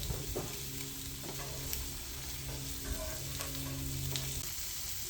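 Tortillas warm in a hot pan after fish has cooked, giving a constant soft sizzle and hiss that holds evenly throughout with no voices.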